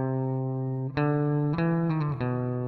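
Electric guitar notes ring out sustained through a mellow hall reverb preset in REAPER, several clean plucked notes changing pitch with a smooth, spacious tail.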